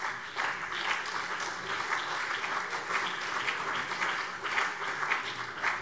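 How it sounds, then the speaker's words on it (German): Applause fills a parliamentary plenary chamber, a dense, sustained clatter of many hands clapping at once that carries evenly through the whole stretch without speech over it. "Applaus"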